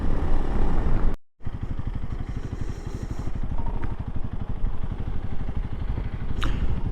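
Honda CRF300L Rally motorcycle riding off-road, its engine a loud, steady close rumble with a rapid even pulse, cutting out briefly near the start before resuming.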